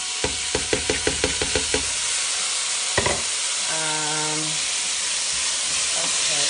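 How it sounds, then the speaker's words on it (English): Lentils and other chilli ingredients sizzle steadily in a hot pot, with a quick series of scraping stirs at the start and a brief clatter midway. "That is like sizzling."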